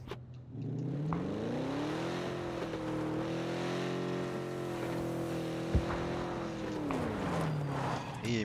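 A car engine in the video game PUBG drives steadily, its pitch rising and holding as it accelerates and then dropping again, with a brief knock partway through and no talk over it.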